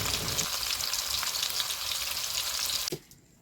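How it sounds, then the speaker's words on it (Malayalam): Chicken frying in a hot pan for spicy Korean kimchi noodles, a loud, steady close sizzle with stirring that cuts off abruptly near the end. "കുറച്ച് ചിക്കനും കൂടി വറുക്കുക"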